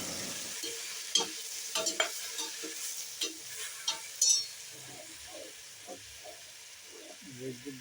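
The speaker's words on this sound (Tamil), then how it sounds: "இப்போ கிளறி விடலாம். கிளறி விட்டால் தான் நல்லா வேகும்" Vegetables with meal maker and tomato being stirred in a pot, a soft sizzling hiss with scattered scraping and clinking of the spoon, close by, with a few faint sounds of voice near the end.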